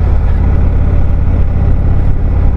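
A motorcycle rides along a twisty springtime road in the Black Hills, its engine a loud, steady, close drone with a deep throbbing low end and no talking.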